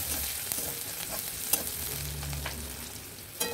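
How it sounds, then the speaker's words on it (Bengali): Chopped onion frying in oil in a wok, giving a quiet continuous sizzle with soft stirring scrapes and a couple of sharp clicks from the utensil. "ওই তেলেই একটা ছোট সাইজের পেঁয়াজ কেটে দিয়ে দিলাম।"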